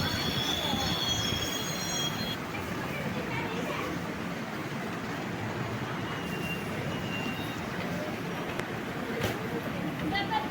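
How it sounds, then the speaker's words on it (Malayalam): An express train pulling into Budalur station on the Thanjavur–Madurai line, steady loud rumble of rolling carriages with high metallic wheel squeal running throughout, heard from inside the train. "ആ ഒരു സ്റ്റേഷനിലേക്ക് നമ്മുടെ ട്രെയിൻ എത്തിയിരിക്കുകയാണ്."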